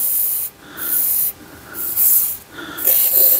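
Bursts of lubricant sprayed from an aerosol can onto parts of a long-neglected Volvo B20 engine, four hissing blasts of about a second each separated by short gaps, loud and close.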